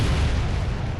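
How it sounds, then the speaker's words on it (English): A massive chemical reactor explosion after high-pressure gas venting, heard as a loud, deep, rumbling blast filling the whole second with dense low-end roar. "there was a massive explosion"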